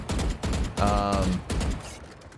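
Game gunfire from the Valorant shooter, fired in short bursts of a few shots, loud and close, with a couple of separate bursts across a brief stretch and a tonal game cue sounding in the middle.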